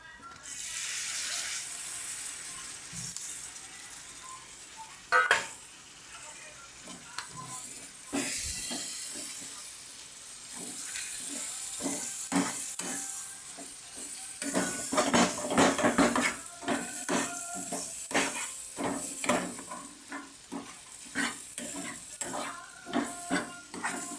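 Leftover cooked rice frying in a pan as tomato is added and stirred in, with a steady sizzle under repeated scraping and clinking of a spoon against the metal pan, close and busy throughout.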